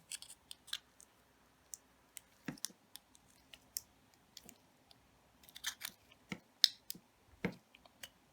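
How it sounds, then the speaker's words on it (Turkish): Side cutters snip the metal strip from the joints of battery cells, producing sparse, sharp clicks and small crunches at irregular intervals over eight quiet seconds, close and fairly faint. "Önce bu yan keski yardımıyla birleşim noktasından bu sacı ayıralım."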